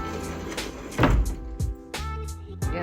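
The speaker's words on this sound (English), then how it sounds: "Yes, these doors are heavy" Heavy doors at a stay in Temecula wine country swing and thud shut, with several clunks and latch knocks close by across a few seconds.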